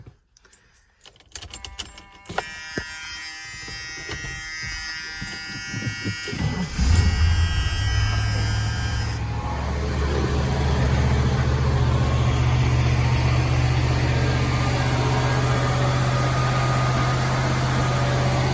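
Keys rattle and a starter cranks before the V8 engine of a 1977 Ford Country Squire catches and settles into a steady, low, even idle that continues throughout.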